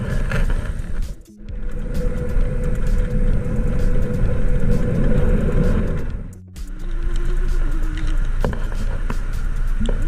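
A Honda Scoopy 130cc scooter cruises along with a steady engine drone and road and wind rumble, dipping briefly twice before picking back up, with no talking.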